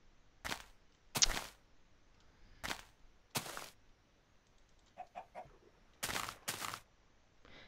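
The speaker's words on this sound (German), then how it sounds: "Hier ist alles voll Hühner." Chickens in the video game Minecraft cluck in short, separate bursts spread irregularly over several seconds, fairly quiet against a near-silent background, with no talking.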